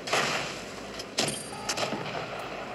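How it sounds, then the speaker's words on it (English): Tank cannon fire in the mobile game World of Tanks Blitz booms in a few heavy blasts over a continuous rumbling engine drone, with two sharp shots standing out mid-stretch. "I'm being shot at."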